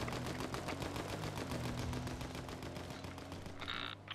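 Rapid automatic gunfire in the Fortnite video game rattles in fast, even bursts that run almost continuously, fairly loud but somewhat distant in the mix.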